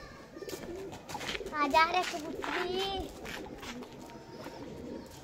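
Soft cooing of pigeons mixed with fluttery bird sounds, while children's voices chatter nearby throughout.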